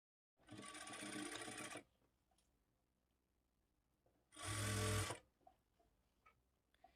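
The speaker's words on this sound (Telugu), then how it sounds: "ఇప్పుడు ఇక్కడ నుంచి స్టార్ట్ చేసుకొని స్టిచ్ చేసుకోవాలి" A sewing machine stitches a lined blouse in two bursts of rapid mechanical whirring, the second lower and heavier, separated by a quiet stretch of faint handling clicks, recorded close and fairly soft.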